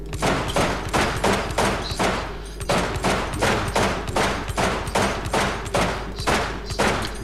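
Glock 17 pistol fired in the game Receiver, about fifteen sharp, loud shots in a fast, even rhythm, close up with no talk over them.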